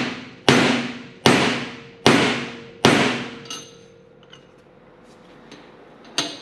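A hammer strikes a sacrificial race to seat a bearing on a Subaru R160 rear differential: four sharp metallic taps with ringing decay, a pause with faint ticks, then one more tap.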